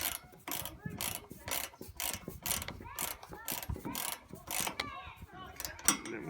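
Rapid ratcheting clicks from a hand tool tightening OCAM roof rack screws on a 2007-on Mitsubishi Pajero, a close, steady run of dense mechanical clatter lasting several seconds.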